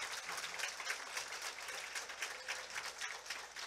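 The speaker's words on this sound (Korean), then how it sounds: "우리 학생들과 이현긴 선생님께 다시 한번 큰 박수를 좀 보내주시기 바라겠습니다." Audience claps for students and their teacher at a parent-education talk concert, a brief, steady burst of dense hand clapping from a crowd, heard alone without speech.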